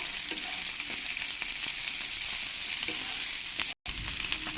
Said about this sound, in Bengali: ক্যাপসিকামগুলো দিয়েও ভালো করে একটু আমি ভেজে নেব